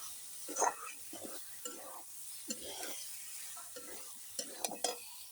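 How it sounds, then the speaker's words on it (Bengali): Potatoes stir-fried in a spiced masala, with soft scraping stirs and faint sizzling in short bursts and a few sharper utensil clinks, heard close and quiet. "এই দেখুন আলুগুলো ঢেলে দিলাম, বেশ সুন্দর করে কষাবো এই বন্ধুরা।"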